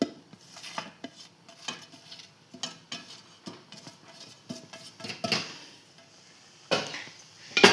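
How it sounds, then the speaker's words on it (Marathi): Rice flour is stirred into boiling water in a pot over a low gas flame, producing a rhythmic run of metallic clinks and scrapes from the spoon against the pot, close and loud, with no talking. "तिथे तांदळाचं पीठ टाकलेलं आता आपण त्याला हलवून घेऊया"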